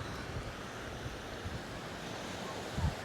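Sea waves wash against the shore at Jaffa, a steady soft surf with wind noise and a slightly stronger wave surge near the end, no talking.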